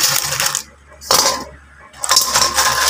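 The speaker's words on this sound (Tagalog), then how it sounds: "Alisin natin itong mga barya." Cleaned nickel brass coins picked up and dropped, loud close metallic jingling and clattering in three bursts separated by short silences.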